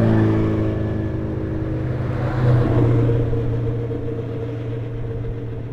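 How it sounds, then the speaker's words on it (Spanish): Race cars descend a mountain hill-climb course at the Alp 2500, giving a steady low engine rumble with a swelling pass in the middle before fading slightly. "ahí teníamos los coches bajando"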